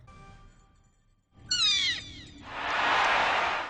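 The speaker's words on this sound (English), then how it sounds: "I love these excited little chirps they make when you try to grab them" Small star creatures in Super Mario Galaxy 2 give a quick burst of high, excited rising chirps, then a soft shimmering sparkle swells and holds. Loud and close, with no talking.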